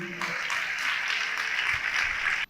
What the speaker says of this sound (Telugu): చప్పట్లు కొట్టి దేవుడు మహిమపరచండి గట్టిగా.